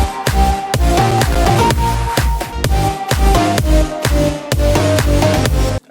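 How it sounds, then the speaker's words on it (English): Second half of an electronic dance music drop with white noise and a whistle layered in, heard as a loud, dense, pounding mix with steady rhythmic beats and sustained bright tones throughout, no talking. "there's some white noise and a whistle that comes in the second half of the drop"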